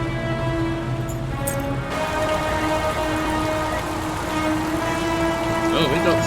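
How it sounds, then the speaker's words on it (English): Heavy rain pours down in a steady, dense roar that never lets up, loud and close, with a faint rumble underneath and no talking. "Definitely is heavy rain."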